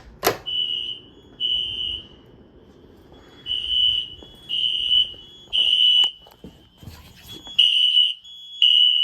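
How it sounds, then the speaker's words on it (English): A fire alarm triggered by a manual pull station sounds in repeated high electronic beeps with short gaps between them, fairly close, and a few clicks and knocks are mixed in. "Let's just go and pull this pull station, because I could re-alarm the system"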